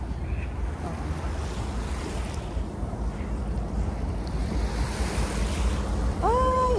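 Ocean waves wash steadily onto the shore at Mawan Beach, Tsing Yi, Hong Kong, a loud continuous surf with wind noise buffeting the microphone and no talking.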